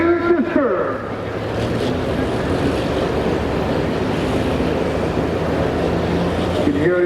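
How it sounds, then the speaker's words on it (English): A pulling truck's engine revs up at Lincoln Speedway, its turbos spooling, as a loud, steady broadband roar holds for the whole stretch with rising tonal sweeps near the start. "You can hear the RPM coming up. You can see the turbos is coming up."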